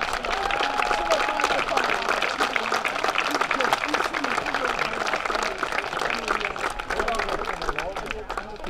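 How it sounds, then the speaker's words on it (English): Crowd applauding at a high school sectional baseball game in Merrill, a steady dense wash of clapping and cheering mixed with babble, sustained and fairly loud throughout. "Let's give them all a round of applause."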